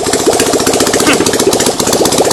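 A generator engine idles in a mounting frame, a loud, close, steady mid-pitched chugging with a quick even beat and slight vibration throughout, with no talking.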